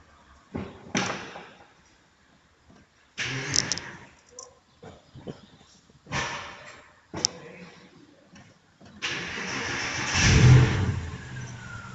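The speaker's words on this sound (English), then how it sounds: "Right now we will start the Porsche." A 2006 Porsche Boxster engine cranks and starts in bursts, then settles into a louder, sustained running note near the end, with clicks and thumps in between.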